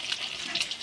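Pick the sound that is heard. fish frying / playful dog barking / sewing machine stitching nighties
fish frying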